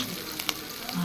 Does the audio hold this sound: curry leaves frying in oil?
yes